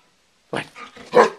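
A pet dog giving a short run of several quick barks and growly yips, close and fairly loud, after a moment of silence.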